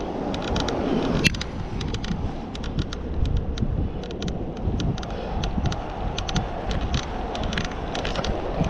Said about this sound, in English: the wind is actually blowing from behind me now